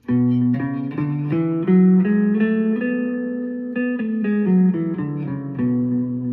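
B Dorian mode scale played note by note on a tuner-like electronic tone, a clear ascending and descending run of sustained pitches, alone and steady.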